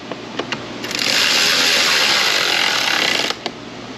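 A power tool whirs for about two seconds while driving a fastener into the HVAC evaporator housing of a 2003–06 GMT800 Silverado, Yukon or Escalade interior, close and steady, with a few light clicks before and after.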